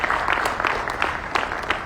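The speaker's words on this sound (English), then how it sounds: "Once again, a round of applause." A seated audience at a foundation day lecture gives a guest lecturer a short, moderate round of applause, with steady clapping and a few sharper claps standing out, heard briefly and without speech.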